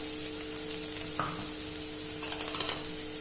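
Chopped onions frying and being stirred in a hot pan for a pepper egg masala, giving a steady close sizzle with occasional scraping stirs, no voices.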